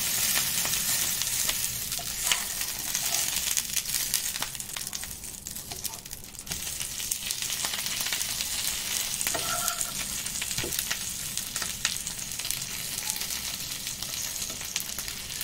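Banana flower paturi fries in a covered pan on medium gas and is flipped to cook the second side, with a loud, steady sizzle and crackle broken by a few scraping, clattering handling sounds.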